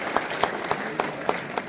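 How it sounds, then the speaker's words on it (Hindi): Quiet, evenly spaced claps ring out about every quarter second at the Gwalior trade fair inauguration welcoming the Chief Minister, faint and somewhat distant, with a low murmur underneath. "तालियों की गड़गड़ाहट से स्वागत किया जाए"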